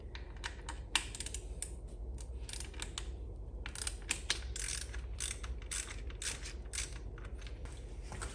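A ratchet with an H8 socket clicks in rapid bursts while loosening a side panel bolt on a BMW S1000RR motorcycle, close and fairly quiet, with short pauses between runs.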